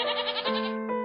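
A male goat gives one loud, close, wavering bleat that shifts pitch partway through and ends in a shorter bleat.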